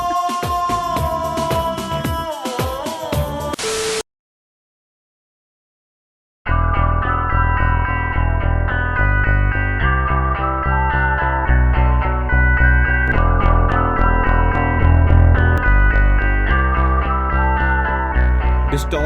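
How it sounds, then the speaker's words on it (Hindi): An electric guitar run through distortion plays a thick, sustained riff, loud and up front, after a short opening passage and a few seconds of silence. "डिस्टॉर्शन को आप बहुत सही तरीके से यूज कर सकते हो अपनी साउंड को शेप करने के लिए"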